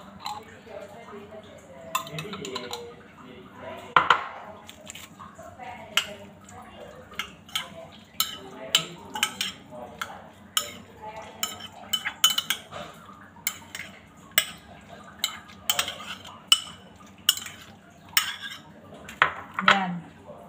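A spoon clinks against a bowl while boiled egg is mixed with mayonnaise, sharp scattered taps and scrapes repeating irregularly, close and clear, with a voice speaking faintly in between.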